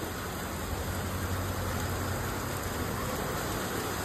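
Heavy rain pours steadily onto a road during a storm, a dense, continuous hiss close by with a constant wash of drops and no voices.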